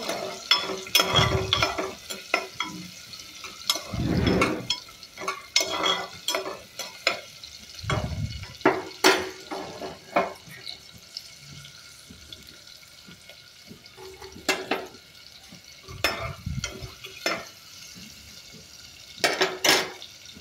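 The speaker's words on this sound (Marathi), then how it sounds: "कांदा लालसर होईपर्यंत परतायचा आहे." Onion sautés in oil in a pan. A faint sizzle runs under repeated spoon stirs and scrapes against the metal, which are loud and close. The knocks come irregularly over a long stretch, and no one speaks.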